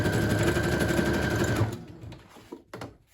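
A sewing machine runs in a steady close-up whir for about a second and a half, then stops, with a few faint handling clicks after; it is back stitching lace on a pamphlet-stitch book cover.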